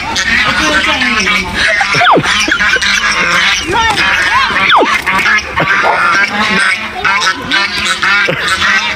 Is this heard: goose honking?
yes